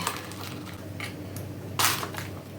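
Soft, wet squishing and scraping as thick cake batter of egg, sugar, soured milk and baking soda is stirred in a bowl, with an occasional louder clatter of the utensil against the side.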